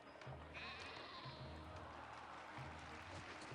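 Sheep bleat in the city-building game Caesar 3. Low, wavering calls repeat several times over a steady, busy game ambience.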